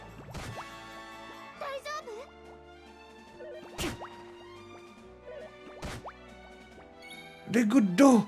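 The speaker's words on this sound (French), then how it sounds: "Des gouttes d'eau! Mais c'est des très grosses gouttes!" Big water drops fall in the Dragon Quest XI video game, a few separate loud plops spaced apart over quiet game ambience, with a person talking.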